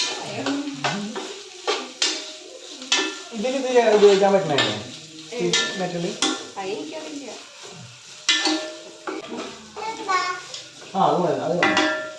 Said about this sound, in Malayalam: ഉള്ളി വഴറ്റാൻ വെച്ചിട്ടുണ്ട്